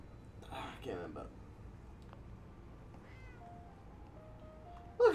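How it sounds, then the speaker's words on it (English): A pet cat meowing close by, a couple of short mewing calls early on, with soft whispering and quiet background noise, then a brief louder sound at the very end. "Look, it's a cat. It's a cat."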